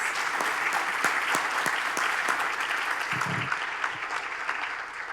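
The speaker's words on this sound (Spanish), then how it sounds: "Un aplauso, por favor, para nuestros panelistas." Steady applause from an audience honoring panelists at a political institutions panel, a dense even patter of many hands that holds at moderate level throughout, with no voices over it.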